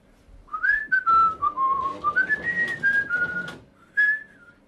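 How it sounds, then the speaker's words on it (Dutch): Someone in Enschede whistles a short, wavering melody up close, with a few sustained notes, then a brief pause and a final short whistled note. "En kunt u even fluiten?"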